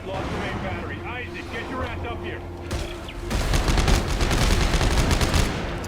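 Gunfire rattles in the Dead Space 3 video game in co-op mode, first as scattered shots under excited talking, then as a dense rapid burst that dominates the last seconds.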